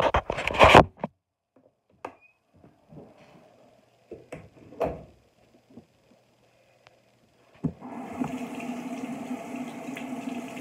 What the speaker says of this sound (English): I'm actually going to step out the room and wash my hands because I have crud on them and stuff.